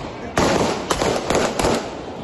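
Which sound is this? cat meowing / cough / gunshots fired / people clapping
gunshots fired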